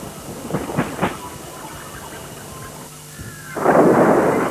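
Rolling thunder from an approaching storm over a bird-of-prey nest in Australia: a few soft cracks early, then a deep, loud rumble swelling near the end, with no talk.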